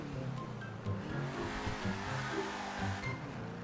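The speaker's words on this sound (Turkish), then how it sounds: "Çok güzel kayıyor aracımız." A Grotti GT500 sports car in GTA 5 Online slides with squealing tires over a steady engine drone, the squeal rising and falling in short bursts at moderate volume.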